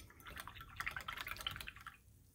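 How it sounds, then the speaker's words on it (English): A paintbrush swished and tapped in a small container of water, producing quiet, close, rapid splashes and drips for about two seconds, with no talking. "Rinse off my brush."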